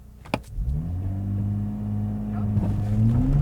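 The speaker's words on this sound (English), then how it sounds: "Now, one of the very first things I want to try out is launch control." A Nissan Z launches under launch control, the engine revving hard and climbing steadily in pitch through the gears, loud and close from inside the car, with a sharp click at the start.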